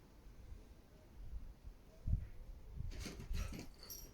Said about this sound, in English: the dogs are just on a bit of a mad half hour